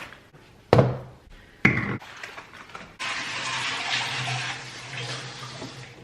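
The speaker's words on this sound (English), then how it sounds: "Let's rinse off some berries." Berries get rinsed under a running kitchen tap, a steady rush of water that starts abruptly after a couple of loud knocks and clatters, close and fairly loud.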